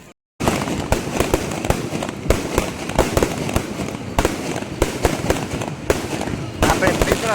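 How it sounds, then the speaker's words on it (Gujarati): After a brief silence, a long string of firecrackers bursts in rapid crackling pops, loud and dense with hardly any pause. "ત્યાં ફટાકડા ફૂટે"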